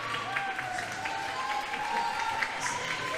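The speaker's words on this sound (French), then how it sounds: "on applaudit, allez, on fait du bruit pour les deux équipes" An audience at a roller derby match claps steadily at moderate distance, a sustained wash of applause with a faint thin tone running over it.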